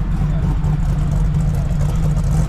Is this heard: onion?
no